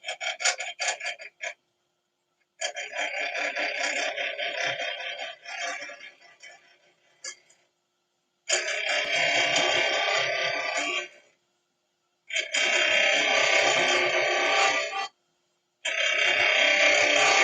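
A lathe with a carbide tip turns an opal ring at fairly high speed, giving harsh scraping, rasping bursts of a few seconds each, separated by short silences, close and with no talk.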